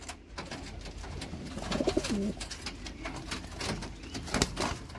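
Picasso pigeons cooing nearby, a soft throaty coo rising from a background of rustling and faint fluttering.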